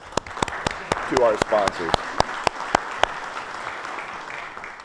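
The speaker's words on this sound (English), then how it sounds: "Let's give a round of applause" Audience applause at a geography symposium, a room of clapping hands building under a speaker's voice as thanks go to sponsors, with sharp individual claps standing out through the steady patter.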